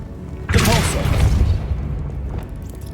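A Repulsor spell cast in Hogwarts Legacy: a sudden loud booming blast that swells and rolls for about a second before fading away, with no talk over it.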